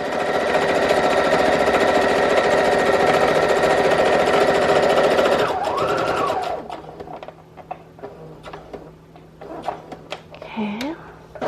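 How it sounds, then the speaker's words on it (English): A sewing machine stitches around the edges of a paper junk-journal page, its steady mechanical hum loud and continuous for about five seconds before stopping, followed by softer handling clicks and rustles. "we're gonna go ahead and just sew around the edges"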